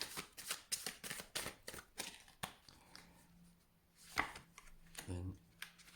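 Tarot cards are shuffled in quick, crisp riffling bursts, then set down and drawn with softer slaps, close and fairly quiet, as a person talks at intervals.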